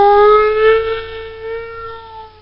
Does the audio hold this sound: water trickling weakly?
no